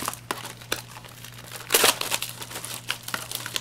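Dull scissors cut and tear at the foil wrapper of a Yu-Gi-Oh booster pack, making close crinkling and ripping with a louder crumpling burst midway and scattered sharp crackles.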